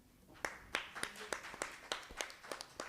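Audience applause at a trade meeting, heard as a series of separate, fairly spaced claps rather than a full ovation, with some background murmur.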